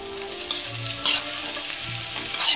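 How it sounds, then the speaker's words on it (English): Onions and Conecuh sausage fry in a cast iron skillet with a loud, close, steady sizzle and hiss, plus a few brief low scraping sounds, and no one speaking. "I'm gonna put the onions in here."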